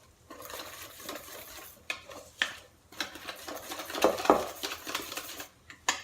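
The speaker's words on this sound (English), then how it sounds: "now you just want to combine it through with the eggs" Bread batter for a grain-free loaf, mixed with eggs, oil and vinegar, is stirred in a bowl with irregular scraping and tapping of the utensil against the sides, fairly close but quiet.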